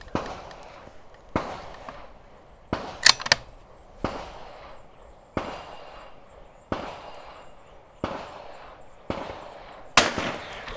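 Repeated .22 rifle shots on an outdoor NRL22 range, each sharp crack spaced about a second or two apart, about nine in all, with brighter metallic pings of bullets striking a steel target on a couple of them.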